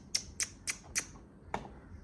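A pet lorikeet gives sharp, raspy chirps, four quick ones in an even rhythm, a short pause, then one more, close and clear against a quiet room.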